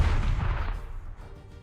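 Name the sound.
artillery guns firing in a video game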